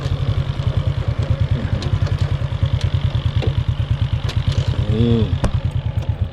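A tractor levels soil at a construction site for a flood-protection embankment in Laos, its engine chugging in a steady, close, rhythmic low throb, with a brief voice and light clatter over it.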